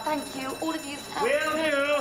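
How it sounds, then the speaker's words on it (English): A building's fire alarm rings with rising, warbling electronic tones, loud and close, while a person speaks over the start of it. "that's the fire alarm."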